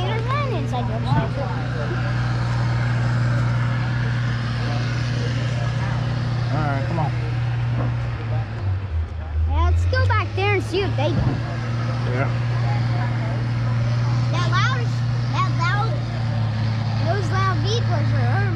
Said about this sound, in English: Those loud vehicles are over my ears.